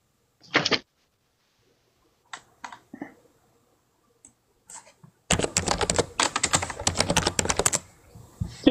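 Computer keyboard keys clack in a few isolated taps, then break into a dense, rapid run of loud typing close to the microphone.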